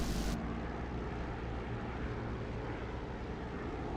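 An aircraft engine in a flight-sim game with the throttle pulled fully back, giving a steady, even drone with no change in pitch or level throughout.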